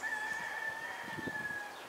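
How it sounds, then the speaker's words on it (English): Chickens and roosters after rain give a faint, distant, drawn-out crow held as one steady call over a quiet outdoor background, with soft low scratchy sounds beneath. "This is what these funky chickens and roosters do"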